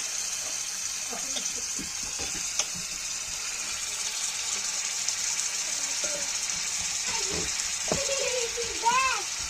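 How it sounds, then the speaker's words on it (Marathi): Onion masala with ginger garlic paste and turmeric sautés in a pan for brinjal bhaji, a faint steady sizzle with occasional stirring clinks. A voice and other talk run over it. "कांदा मसाला आणि हळद टाकून छानपैकी असं स्वाद सुटेल असं परतून घ्यावे"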